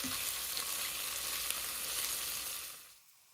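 Chopped yellow onion hitting hot vegetable oil over medium heat gives a loud, steady sizzle that holds for nearly three seconds, then fades quickly to quiet.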